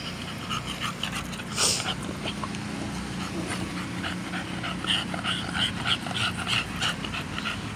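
A female dog in heat whimpers and pants close by, with steady breathy panting and thin whines running throughout.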